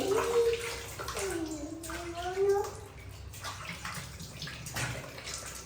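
Water pours and splashes during a bath after oiling, gurgling and sloshing continuously while a voice talks over it in a home setting.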